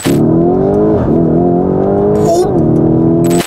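Lamborghini Urus 4-litre twin-turbo V8 engine holding a loud, deep, sustained rev close by, with a slight dip and recovery midway and a short gap at the end.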